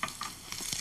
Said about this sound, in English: Oh, I love that sizzle.